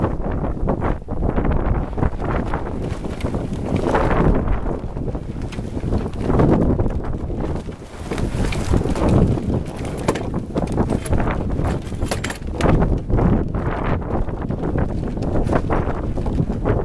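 A sailboat coming about under tiller, with steady loud wind buffeting the microphone and water rushing past the hull, continuous and close throughout.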